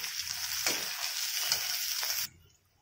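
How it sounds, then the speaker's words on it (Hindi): Garlic cloves fry with golden onions for soya chunks pulao, a bright steady sizzle with a few stirring scrapes that cuts off abruptly, leaving near silence. "अभी ऐड कर देंगे गार्लिक क्लोव्स इसको भी थोड़ा सा फ्राई कर लेंगे"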